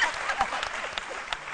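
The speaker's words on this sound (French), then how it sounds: "Il applaudit tout ça." Audience applause in a studio for a midday Ivorian TV humour program, a dense, steady wash of clapping held close and fairly loud throughout a short stretch, with a few sharper claps standing out.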